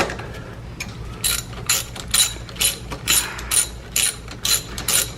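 A ratchet clicks rapidly as it runs in a bolt coated with blue thread locker on the front drive axle of a 1985 VW Scirocco Mk2, a rhythmic series of close metallic ratcheting strokes.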